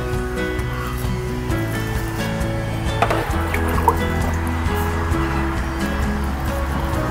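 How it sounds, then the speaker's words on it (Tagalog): Water is poured onto the soil of potted plants freshly topped with vermicompost, giving a soft, steady trickle with scattered drips and light gurgles as the soil absorbs it, close by and alone. "Didiligan ko na sila."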